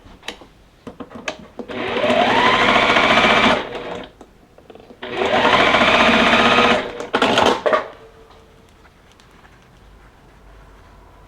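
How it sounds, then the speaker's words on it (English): Sewing machine stitching two quilt flower block pieces together, running close and steady in two long bursts separated by a brief pause, with a few short stops and starts at the end. "we're just gonna sew these two pieces"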